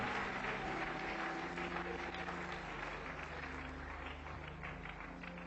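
A congregation in a French-speaking church applauds in sustained, dense clapping at moderate distance, with faint sustained tones from instruments or voices underneath.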